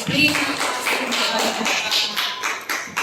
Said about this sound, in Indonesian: Mari kasih aplaus buat Anis.